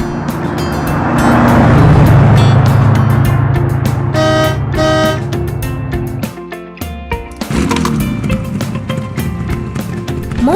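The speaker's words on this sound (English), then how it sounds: "Car." Cartoon car driving and honking: a loud motor swells and hums for several seconds, followed by a run of quick, bright horn toots and clattering effects, alone with no talk.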